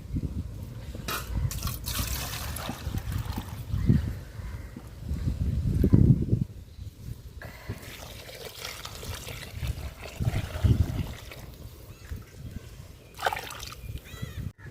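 Water is poured into rice for mushroom biryani, one and a half measures in all, with bursts of splashing and trickling liquid between quieter stretches and some soft handling noise.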